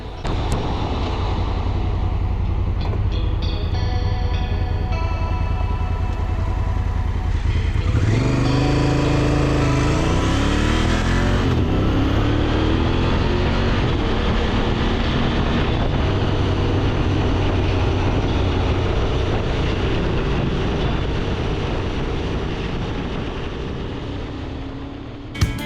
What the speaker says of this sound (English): The goal today was to ride out to Souk and meet up for a casual dirt ride that would get Colin's new bike